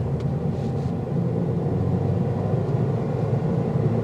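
A 2023 Toyota Corolla drives in eco mode, with steady low engine and road rumble filling the cabin continuously and evenly.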